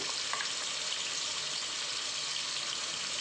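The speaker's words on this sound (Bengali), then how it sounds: "আলুগুলোকে একটু ভেজে নিচ্ছি" Sliced potatoes frying in a pan give a steady, dense sizzle that holds at an even level throughout, with faint stirring clicks and no voices.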